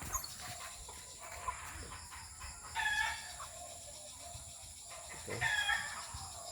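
Roosters crow outdoors at dusk, two crows rising moderately distant over a steady background hiss, and a person briefly speaks once.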